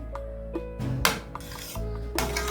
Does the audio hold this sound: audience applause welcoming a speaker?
no